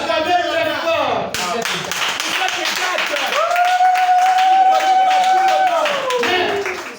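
A church congregation claps loudly and steadily for several seconds, with a sustained voice or singing rising and falling over the applause.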